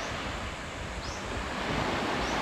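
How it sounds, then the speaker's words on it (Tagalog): Ocean waves roll and wash steadily during a boat race at a village fiesta in Romblon, Philippines, a continuous broadband surf with some wind buffeting the microphone, no voices. "medyo malakas pa yung alon mga ka-Jedi"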